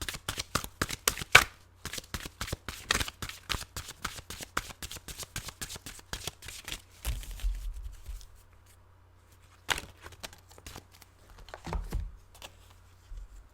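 Tarot cards shuffled by hand in rapid, crisp riffling flutters for several seconds, then slowing to a few scattered card slaps and taps, close and fairly quiet.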